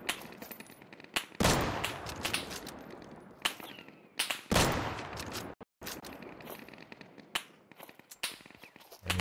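AK rifle gunfire in the shooter game Deadside: sharp, loud bursts and single shots cracking in rapid, irregular volleys, with brief pauses between strings of fire and no talking.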